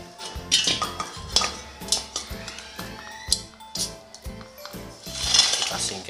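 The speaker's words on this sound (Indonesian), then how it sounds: "Oke, langsung saya hubungkan ke tabung gas." A metal regulator, an ordinary gas-tank regulator modified for a high-pressure gas stove, is fitted onto an LPG gas cylinder, giving a close series of sharp metallic clinks, clicks and scraping clanks in an uneven rhythm.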